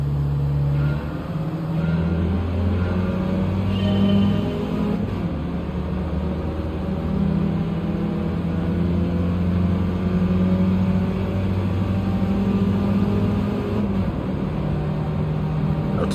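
A spec-class Mini Cooper races in Gran Turismo 7. Its engine drones continuously and loudly, rising and falling in pitch through gear changes, with no pause and no voices.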